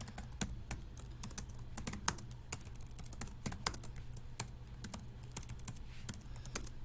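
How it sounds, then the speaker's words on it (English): Rapid, uneven clicking of keys on a computer keyboard while typing in OneNote, steady typing close up with no voices. "I'm going to go ahead and type so you can see how the text works"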